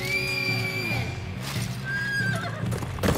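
A horse in the video game Dynasty Warriors 8: Xtreme Legends whinnies loudly with a long, wavering, high neigh, then gives a second shorter call amid game effects and hoof clatter.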